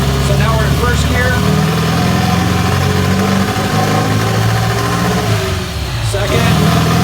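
A rebuilt, turnkey car engine runs loud and steady in first gear on a chassis dyno, its droning note climbing and holding with a brief dip near the end.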